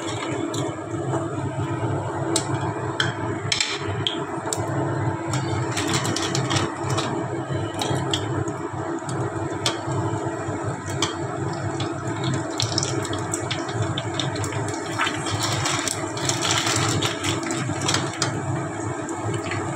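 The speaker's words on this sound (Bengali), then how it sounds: "এবার ছেঁকে নেব।" Boiled potatoes and chickpeas being strained, with water pouring in a steady rushing stream mixed with a low mechanical hum and occasional clinks, no talking.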